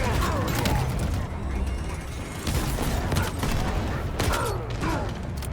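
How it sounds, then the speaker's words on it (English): Shade turret guns fire in Halo Infinite, a dense, loud stream of mechanical shots and impacts, with a voice talking over them throughout. "But the actual guns of this shade turret look really satisfying."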